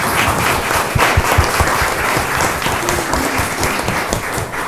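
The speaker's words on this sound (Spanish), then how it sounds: "un fuerte aplauso para nosotros" A congregation at a Pentecost Sunday Mass breaks into loud, sustained applause, with dense clapping holding steady for nearly five seconds.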